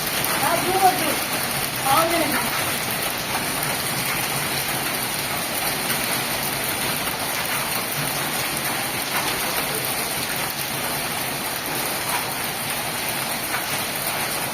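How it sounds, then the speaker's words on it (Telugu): Dense, steady patter of hailstones drums on surfaces without pause, with a voice briefly audible near the start. "వడగళ్ళ వాన పడుతుంది"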